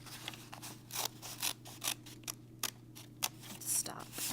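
Scissors snip through paper strips for a paper weaving craft in a run of short, crisp cuts with brief pauses between them, close up and fairly quiet.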